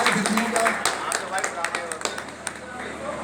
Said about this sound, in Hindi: तालियां बजाकर कृपया स्वागत करिए मुख्य अतिथियों का